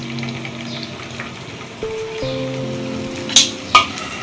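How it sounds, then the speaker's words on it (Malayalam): Dried prawns, cleaned of heads and tails, sizzling and frying in coconut oil for a dried prawn roast, a steady crackle with a few sharp louder pops near the end. "ഈ വെളിച്ചെണ്ണയിലേക്ക് നമുക്ക് ഈ കൊഞ്ച് ചെമ്മീന്,"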